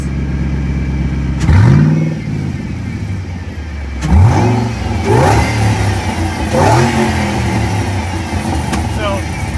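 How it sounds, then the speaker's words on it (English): A supercharged 2007 Saleen Mustang S281 fires up and its exhaust is revved in several sharp, throaty bursts that swell and fall back to a deep idle, loud and close. "I'm gonna start up and show you. Now hear that loud throaty exhaust?"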